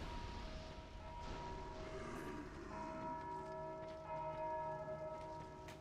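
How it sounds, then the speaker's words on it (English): A bell rings in the video game Dark Souls II, its sustained metallic tones ringing steadily under a low background rumble for several seconds. "You can hear somebody still trying to ring that bell."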